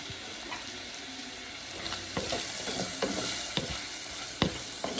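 Chili flakes fry in hot oil in a pan while being stirred, a steady close sizzle broken by repeated sharp scraping strokes of a utensil.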